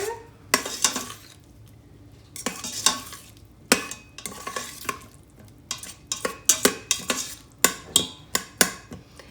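Red onions sizzle in a hot pan for smothered beef tips while a utensil stirs them, making repeated loud scrapes and clatters over a steady frying hiss.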